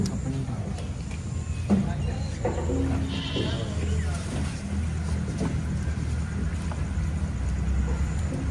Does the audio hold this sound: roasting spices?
no